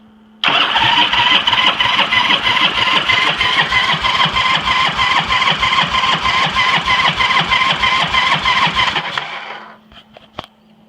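A 1976 Harley-Davidson Ironhead Sportster engine cranks over on the starter with the throttle open during a compression test, a steady rapid chugging whir for about nine seconds that then winds down, followed by a few faint clicks.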